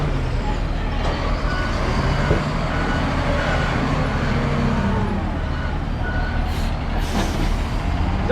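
A sand and gravel delivery truck idles and maneuvers nearby with a loud, steady engine rumble, reversing beeps and short bursts of air brake hiss rising through the noise.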